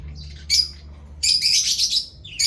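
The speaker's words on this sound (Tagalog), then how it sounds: "Yan mga African lovebirds ko." African lovebirds in a double cage give loud, shrill chirps and squawks in two bursts, the second longer and busier, over a low steady hum.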